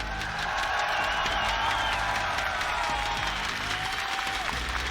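A packed live esports crowd at a Rainbow Six Siege Invitational event in Montreal applauds and cheers in a loud, sustained roar of clapping and shouts throughout, with brief tonal streaks of whistles or horns rising over the din.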